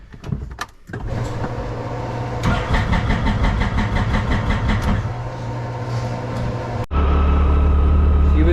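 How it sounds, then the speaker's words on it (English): A side-by-side's engine cranks and catches after a jump start from a Jeep, a few seconds of rapid cranking before it fires and settles into a loud, close idle. "So we got the side-by-side started."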